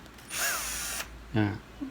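A Bosch GSR 120Li 12V cordless drill with a motor burnt from drilling steel gives two short high whirring bursts, close and loud, with a brief mechanical rattle after the second.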